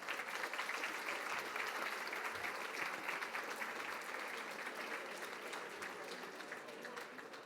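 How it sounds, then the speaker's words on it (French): Sustained audience applause at the FIC 2023 cybersecurity forum prize-giving ceremony, a dense, even patter of many hands clapping that slowly fades over several seconds, with a voice faintly audible underneath. "On peut les applaudir."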